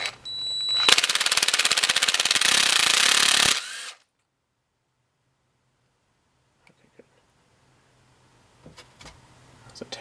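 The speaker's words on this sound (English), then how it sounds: "Who would guess you need an impact driver to take out a" An impact driver rattles in one loud, rapid hammering burst of about three seconds while removing a bowl nut on a Briggs and Stratton engine, followed by near silence and a few faint clicks and handling sounds.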